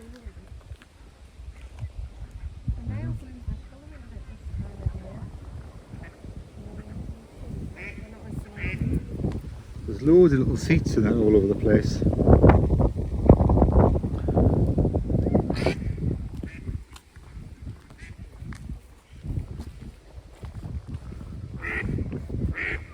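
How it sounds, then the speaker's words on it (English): Ducks quack repeatedly nearby, growing louder and busier in the middle, while people talk over them. "So all these ducks are following us around"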